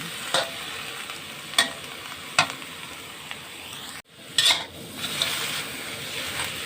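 Peppers and tomatoes being stir-fried in a hot pan, a steady close sizzle with repeated scraping and clinking of a spatula against the pan, briefly interrupted then resuming, with no talking.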